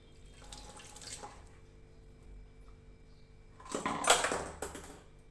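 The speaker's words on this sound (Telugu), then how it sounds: "ఇప్పుడు ఇందులో కొన్ని వాటర్ వేసుకోవాలి." Water poured into a cumin, mustard seed and curry leaf tempering for dosa-batter dhokla, first a faint trickle and then a louder gushing splash near the end, close and quiet overall.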